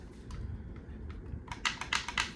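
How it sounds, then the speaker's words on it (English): Buttons on a Logitech G Pro racing wheel are pressed in a quick series of sharp, plastic clicks, quiet at first and then louder and faster near the end, heard close in a quiet room. "Oh, the buttons are so clicky."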